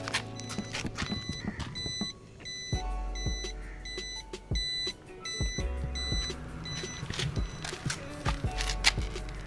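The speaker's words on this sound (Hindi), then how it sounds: "सेंसर जैसे ही टायर से बाहर निकलता है वैसे ही अलार्म आता है।" Repeated electronic tire pressure sensor alarm beeps sound in quick bursts as the sensor comes off the tire, over a busy mechanical background with thumps and clicks, fairly close and loud.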